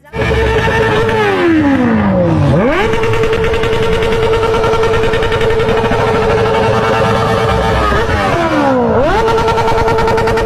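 A sport motorcycle engine runs loud and close with a steady high drone, revving down and back up sharply twice, once early and once near the end.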